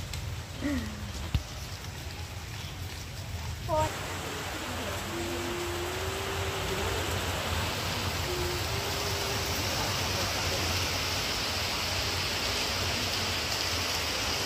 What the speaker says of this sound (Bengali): দেখো বন্ধুরা, ঝমঝমিয়ে বৃষ্টি হচ্ছে।